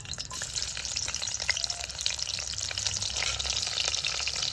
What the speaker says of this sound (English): Fry up these now. Put in onion,